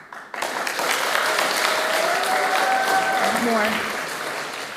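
Startup showcase crowd at The Piano applauding on cue, a dense steady wash of clapping that starts abruptly and holds loud before easing slightly toward the end, with a voice and tonal sounds mixed in.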